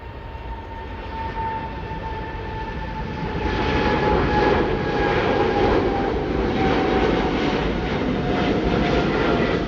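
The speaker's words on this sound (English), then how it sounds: "Here's the first departure of our day, that is Air India's 777-300ER, which is now heading to Mumbai." An Air India Boeing 777-300ER departing Delhi Airport, its jet engines giving a loud, steady roar with a whining tone that swells midway and holds, heard from nearby without talk.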